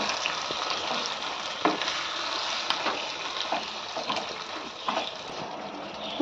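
Mutton and potato curry sizzles and fries in a pan while being stirred, giving a steady close crackle with scattered scraping clicks throughout.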